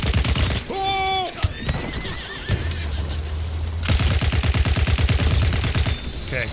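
A horse whinnies loudly during a Battlefield 1 battle, one shrill neigh amid dense gunfire and machine-gun bursts, followed by rapid clip-clopping hooves and more shooting.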